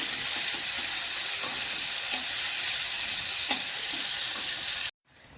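Cumin seeds and bay leaves sizzle in hot oil in a home kitchen while making rohu fish and cauliflower curry, a loud, steady frying hiss with a few faint clicks, cutting off abruptly near the end.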